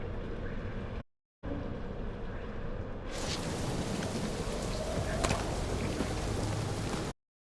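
Steady rain in the video game Guardians of the Galaxy, a dense hiss that cuts out briefly, then returns brighter and fuller under faint low rumbling.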